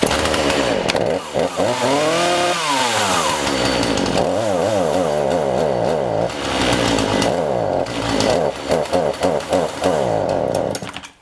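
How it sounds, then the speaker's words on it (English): Stihl or Husqvarna chainsaw engine idling and repeatedly revved, the pitch rising and sagging as it bogs down under throttle, with uneven sputtering surges; loud, close and continuous, no talk. "you saw the bogging there when I was trying to throttle up"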